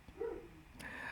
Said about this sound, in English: Yes, there is a dog barking